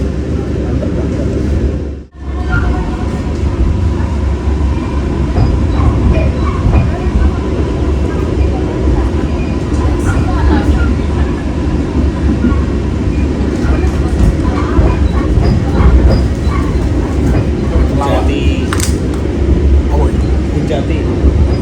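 A train on the Solo–Semarang railway rolls along steadily with a loud, continuous rumble and rail rattle, heard from on board, with one brief dip near the start.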